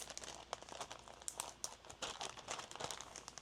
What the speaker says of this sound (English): nice and close that seal bag